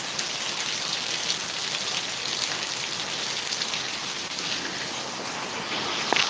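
Steady heavy rain pours and splashes continuously, with water running and drumming off a roof edge, a dense even hiss throughout.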